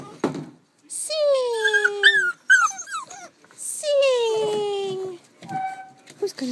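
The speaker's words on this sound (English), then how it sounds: "Here's my little singing puppies. You singing?" Seven-week-old puppies whimper and howl in drawn-out, wavering cries, close and loud, in two long bursts with short pauses, while a person speaks softly between them.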